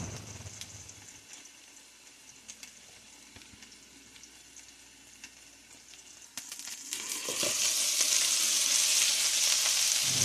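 Burgers frying in a pan give off a low, even sizzle that swells noticeably louder and brighter toward the end, heard up close without any talking.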